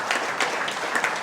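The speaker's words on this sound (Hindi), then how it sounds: "नुपुर मैडम के लिए भी जोरदार ताली होनी चाहिए" An audience applauds for Nupur madam at a talk by a Deputy Commandant, dense steady clapping filling the short stretch without a break.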